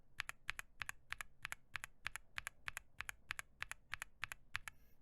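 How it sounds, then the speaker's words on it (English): Brisk, steady typing on a Wuque keyboard fitted with non-silent tactile switches: a rapid, even run of crisp, clacky keystrokes, close and fairly loud, with no voices over it. "starting with the Wuque, as a basis of comparison, non-silent tactile"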